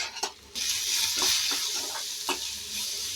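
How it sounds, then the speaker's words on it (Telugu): Capsicum kurma frying on a low flame while being stirred, a steady close sizzle with a few sharp scrapes of the spoon against the pan. "ఇలా ఒకసారి మొత్తం ఫ్రై చేసుకున్నట్టుగా లైట్ సిమ్ ఫ్లేమ్లో ఇలా మనం కలుపుకోవాలి"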